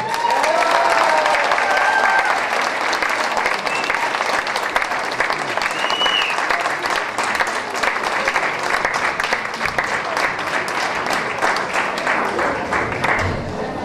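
Applause from the audience at a dance show, a sustained roar of many hands clapping with some cheering, loud and continuous, gradually thinning toward the end.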